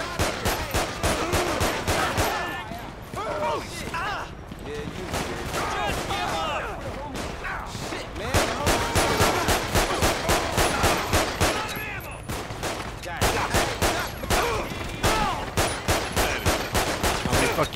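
Rapid bursts of automatic gunfire in GTA 5, a police-mod shootout, fired in long sustained volleys with brief pauses, loud and close, with someone talking over the shooting.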